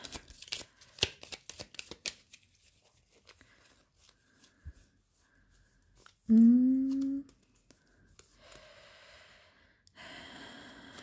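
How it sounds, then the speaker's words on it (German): A deck of playing cards is shuffled at a table, a quick burst of riffling flutters and taps at the start, followed by quieter handling and a few unrelated sounds. "Jetzt mische ich die Karten einmal."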